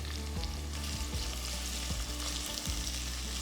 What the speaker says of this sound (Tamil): அடுத்து நீல வாக்குல மெலிசா நறுக்குன 2 வெங்காயம் சேர்த்து வதக்குங்க